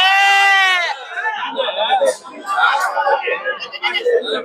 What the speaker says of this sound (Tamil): நிறைய பார்த்தோன்னா செம்மறி குட்டிகள் நிறைய இருக்கு